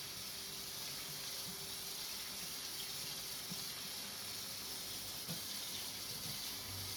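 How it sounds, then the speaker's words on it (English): A tie-dye shirt is rinsed under running tap water, giving a steady, even rush of water that stays constant throughout, fairly quiet, with no voices. "So we're going to rinse until it's mostly clear."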